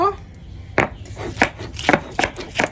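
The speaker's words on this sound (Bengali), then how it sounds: "এখন আদা রসুন আর জিরে একসঙ্গে বেটে নিচ্ছি" Ginger, garlic and whole cumin are ground together into paste on a stone, close rhythmic grinding strokes and knocks, loud and uneven, with no talk.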